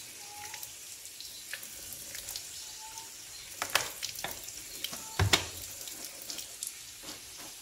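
Raw chicken is washed under running tap water, a soft continuous stream punctuated by splashes and knocks of the heavy meat being handled in the sink, heard up close.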